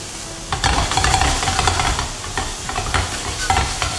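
Mushrooms sizzle and crackle in a hot pan with salt and pepper, while repeated scraping strokes of stirring cut through the loud, steady frying hiss.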